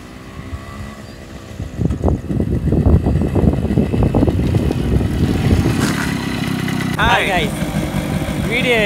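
Replica Yamaha RX100 motorcycle engine running close by, a steady mid-pitched idle with throttle blips and a continuous rumble throughout, briefly joined by a high squeaky chirping sound near the end.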